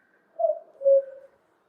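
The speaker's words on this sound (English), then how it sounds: "hark, what is that sound? It's the wretched cuckoo." A cuckoo calls outdoors, a soft two-note hooting phrase, the second note longer and lower, fairly faint against a quiet background with no voices.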